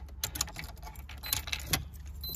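Keys jingle and clink in short bursts as the key is pulled from the ignition of a Nissan S13, close and fairly quiet, with no talking.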